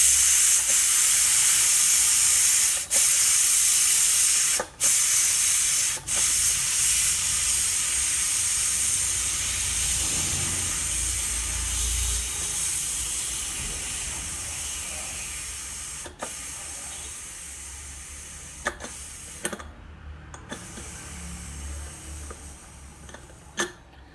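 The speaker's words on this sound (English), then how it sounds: "so I'm going to release the pressure" Pressure cooker with dal and rice venting steam in a long, loud, steady hiss that gradually fades, broken by a few sharp clicks.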